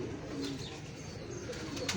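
Domestic pigeons kept by a rooftop pigeon fancier, soft low cooing close by over faint background hum, with a few brighter chirps near the end.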